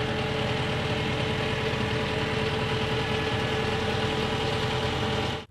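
A mini loader's engine revving as its bucket is raised, a steady loud mechanical drone with rattling and a low rumbling hum, running continuously before cutting off abruptly.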